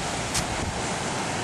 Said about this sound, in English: the waves were high, and there's a lot of water